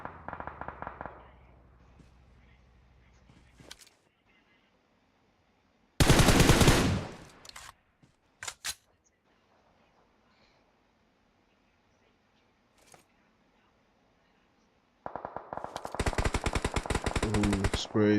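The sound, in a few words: automatic gunfire sprays in a video game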